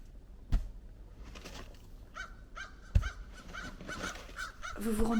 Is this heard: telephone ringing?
no